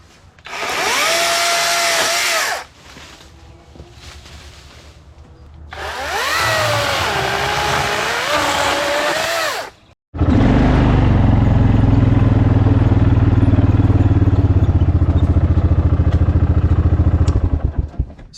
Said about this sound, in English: this right here is what this 12-inch Kobalt chainsaw is made for